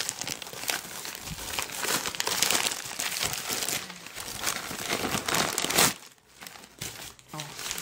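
Vacuum-packed plastic bag wrapped around a pair of men's rubber boots, crinkled and crumpled close up in bursts, then briefly quieter before more handling.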